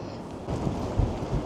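Strong gusting wind from Storm Éowyn on a street in Blackpool buffets the microphone with a steady, heavy roar, rising in brief gusts, loud and close.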